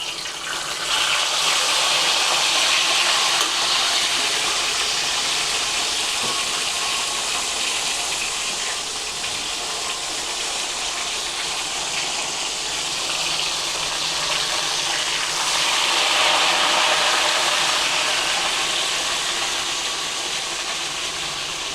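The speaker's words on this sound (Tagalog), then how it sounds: "Mainit ang mantika guys, kaya ihulog na natin ang tilapia." Tilapia sizzles and crackles loudly and continuously in hot oil, swelling briefly toward the end, with no voices over it.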